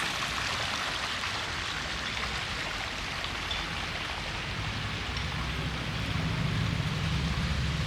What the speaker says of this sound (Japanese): 川が流れているんですけれども、普段は全く水がないのですが、 たくさん雨が降ることによって 川ができます